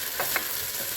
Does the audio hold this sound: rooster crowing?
no